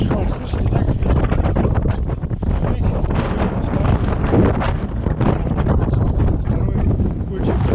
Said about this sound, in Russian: Это что, слышите, да, как ветер?